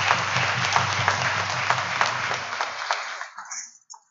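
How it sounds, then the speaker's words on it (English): A church congregation claps during Holy Mass, a steady round of applause echoing in the parish hall that thins out and stops near the end, leaving a few scattered sounds. "So you get your clap for your first Holy Communion."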